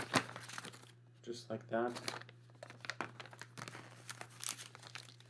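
Plastic film is peeled and crinkled off a new Focusrite Scarlett Solo 3rd Gen audio interface, giving close, irregular crackling bursts mixed with someone speaking briefly over a steady low electrical hum.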